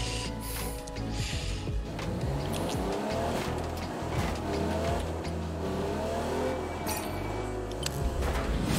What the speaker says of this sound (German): Warum fährt mein Auto rückwärts?